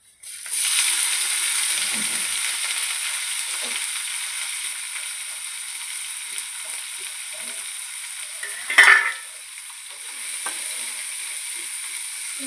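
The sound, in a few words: dried fish frying in hot oil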